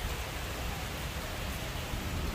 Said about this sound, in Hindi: बारिश हो रही है बहुत तेज इस टाइम,